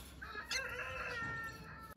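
Young chickens cluck and squawk inside a cage, a busy near overlapping chatter with a sharp louder call in the middle, continuing steadily without talk.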